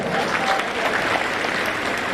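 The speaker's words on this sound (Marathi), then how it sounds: "जोरात टाळ्या होत्या एकदा." Applause from a school celebration audience after a children's outdoor performance, steady dense clapping throughout at moderate volume, with no talk over it.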